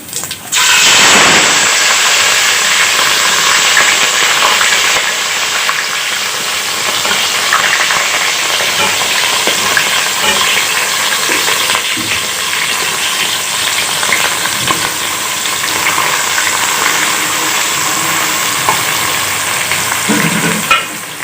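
Onions sizzling and frying in hot oil with white cumin seeds and whole roasted chillies for an aloo methi mix-vegetable dish, a steady loud hiss with occasional stirring scrapes throughout.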